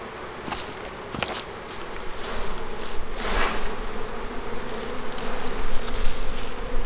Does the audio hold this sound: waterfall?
no